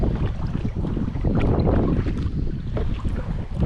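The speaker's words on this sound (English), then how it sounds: "Pretty good wind right in our face right now." Strong wind blowing head-on while kayaking on a scenic river, a loud steady roar buffeting the microphone for the whole clip with no talk.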